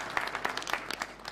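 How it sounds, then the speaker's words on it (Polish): Brief, fairly quiet scattered clapping from an audience at a hunting culture congress, with individual claps distinct rather than merged into a roar. "Brawa dla przedstawicieli."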